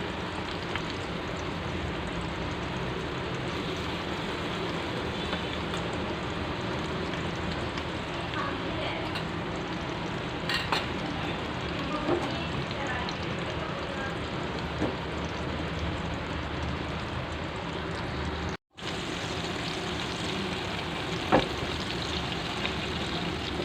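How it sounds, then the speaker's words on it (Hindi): Raw minced-meat kebabs fry in oil in a pan, giving a steady, dense sizzle like light rain that runs throughout, with someone talking over it and one brief break. "देखिए ये फ्राई हो रहे हैं"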